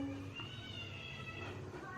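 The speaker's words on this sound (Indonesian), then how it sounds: "Sorry ya, itu kucing aku." A pet cat gives a drawn-out meow over soft background music, faint and somewhat distant, lasting about two seconds.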